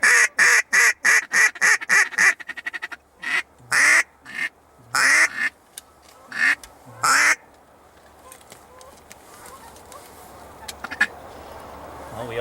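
Several ducks quack in loud, rapid bursts out in the open during a fowling hunt, a string of harsh calls in the first half before fading into quieter background noise, with people talking.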